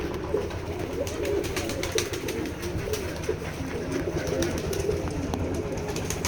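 Pigeons cooing in a village farm loft, many birds producing overlapping low rhythmic coos close by, with scattered wing flutters and clicks, no talking.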